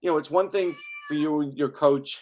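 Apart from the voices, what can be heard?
cat meowing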